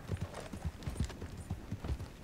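Horse hooves clip-clop in a quick steady rhythm in the western game Red Dead Redemption 2, close and fairly loud on a hard surface, with no voices over them.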